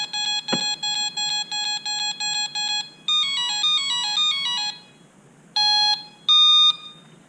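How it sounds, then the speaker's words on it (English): Rapid electronic beeps from a drone's ESC during throttle calibration pulse in an even rhythm, then a descending cascade of tones, followed by a couple of separate longer beeps. "The rapid beeping after I lowered it"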